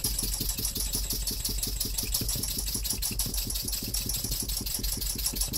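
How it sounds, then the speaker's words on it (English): Three small Wig-Wag model engines run together, giving a fast, even, rapid ticking chug that holds steady throughout, close and alone with no voices. "there's my three Wig Wag engines running"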